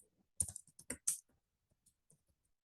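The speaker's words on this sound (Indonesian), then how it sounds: "Kemudian kita ketik nama kita." Short quiet bursts of typing on a computer keyboard, a quick cluster of close key clicks followed by a few scattered taps, with no voices.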